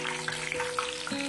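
Red chilies fry in hot oil for a homemade savoury snack mixture, a brief, close, steady sizzle with faint crackles.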